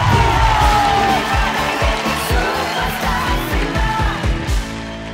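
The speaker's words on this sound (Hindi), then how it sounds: "टीम दानिश के दबंग्स के लिए एक बार हाथ टूटने तक तालियां।" Studio audience on a singing reality show applauds and cheers for a team, a loud, dense wash of clapping and shouts sustained throughout with music underneath.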